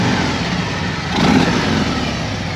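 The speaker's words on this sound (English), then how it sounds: "Let me show you on our BMW R18. Same concept, just different bike, different motor, has a different sound." A BMW R18 motorcycle with an electronic adjustable exhaust gives a steady low engine rumble nearby, swelling briefly in a short rev before settling back.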